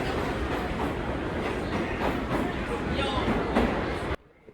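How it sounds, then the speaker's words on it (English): A New York subway Redbird train rushes past a station platform without stopping, a loud steady clatter of wheels and cars lasting about four seconds before cutting off abruptly. "the Redbird, the train of many colors, skipped the stop"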